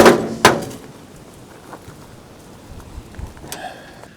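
A car door being opened and closed during repair, catching behind the fender, gives two sharp metallic clunks at the start, then quieter knocks and scrapes of handling metal.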